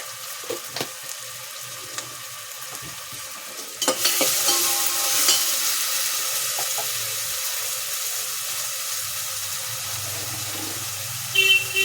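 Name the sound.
stirring pongal ingredients in a pan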